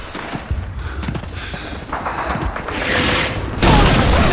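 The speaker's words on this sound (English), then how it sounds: "Look out! Machine gun over there!" Bursts of machine gun fire crack and rumble through a Call of Duty 2 battle in Touffreville, dense and continuous with heavier booming swelling toward the end, no voices over it.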